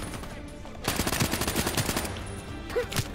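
Rapid bursts of automatic gunfire in the video game Call of Duty: Black Ops III, a dense rattling volley lasting about a second followed by a couple of isolated louder shots, with faint game ambience beneath.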